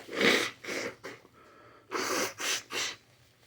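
Several forceful, breathy nose blows close by, in two bursts of three with a brief pause between them.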